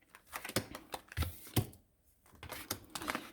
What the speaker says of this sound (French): on coupe et on prend une carte